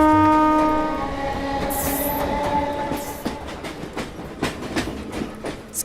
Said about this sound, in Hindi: बम्बई की ट्रेन्स कितनी हिलती है ना।